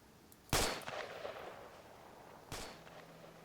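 Two sharp sniper rifle reports in Arma 3, spaced about two seconds apart, each with a rolling, echoing tail over faint background ambience.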